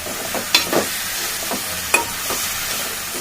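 Eggplant pieces and curry leaves frying in a pan for a tamarind curry, with a steady hiss and sizzle and a few sharp scraping stirs of a spoon against the pan. No voices are heard.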